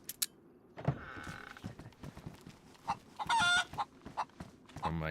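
In the DayZ video game, set in Chernarus, a chicken clucks in scattered short bursts amid footsteps and movement noises, with one louder squawking burst midway, all fairly quiet.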